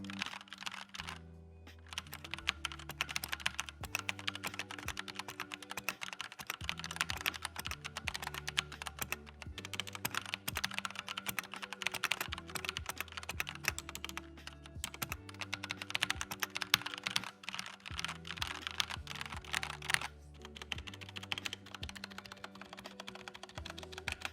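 Continuous, fast typing on an Xtrfy K4 RGB TKL mechanical keyboard, with crisp clacking keystrokes in an uneven rhythm throughout, close up and with no talking.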